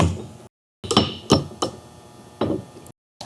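Metal hammer blows drive a part onto a direct push drilling assembly used for concrete and asphalt work, about five sharp, close strikes spaced unevenly with ringing decay and brief silent gaps.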